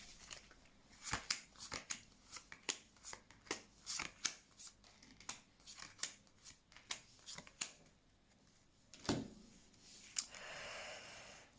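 Crisp, close snaps and riffles of tarot cards being shuffled in a quick irregular series, then a few slower slides and taps as cards are drawn, quiet and without talking.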